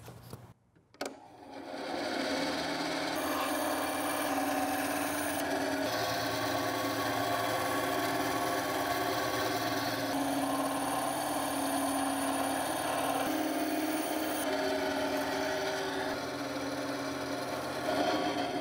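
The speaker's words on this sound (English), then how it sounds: "I have my bandsaw set up, so I'm gonna do the cuts over there." Bandsaw slicing through foam for a Boba Fett or Mandalorian helmet, a steady close whine and hum that starts after a brief clatter and runs unbroken for the rest of the clip.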